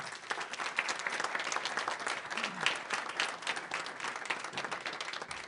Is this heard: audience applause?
yes